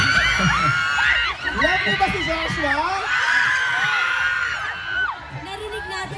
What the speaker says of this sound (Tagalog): Narinig natin ang hiyawan ng ating mga ka-asenso